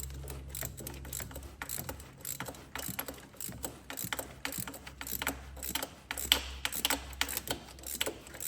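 A ratchet with a deep socket tightens a bolt during a clutch replacement on a Volkswagen Caddy PD130, giving a steady run of close, rhythmic clicks with brief pauses and no talking.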